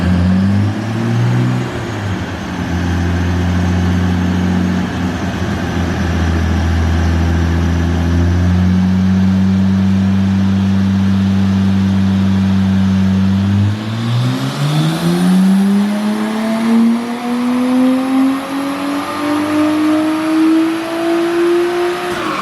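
A turbocharged car runs on a dyno, its engine droning loud and steady for several seconds before the revs climb smoothly in a long rising pull.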